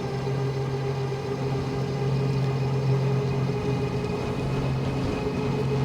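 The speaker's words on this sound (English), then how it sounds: "the motor is very quiet, just smooth all around." A ONEBOT S6L folding electric bike motor runs with a smooth, steady hum and constant tone over continuous riding noise, with no talk.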